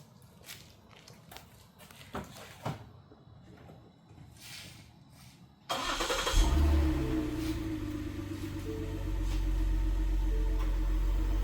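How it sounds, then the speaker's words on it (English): A truck engine starts about halfway through after a few quiet clicks and knocks, cranking up abruptly into a loud, rumbling idle that steadies and holds near the microphone. "let's start the truck"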